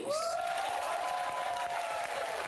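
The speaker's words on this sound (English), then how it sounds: "Look at how they're cheering." A crowd claps and cheers in a continuous wash of applause, loud and steady from start to end, with a sustained voice-like tone rising over the top early on.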